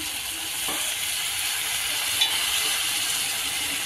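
Banana flower and prawns simmer in a pan after a splash of water, giving a steady, close sizzle with a few soft stirring scrapes.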